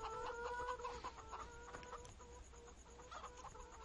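Chickens clucking inside a chicken coop on a virtual farm in a farming video game, several soft overlapping clucks and murmurs at a low, steady level, quiet and without voices.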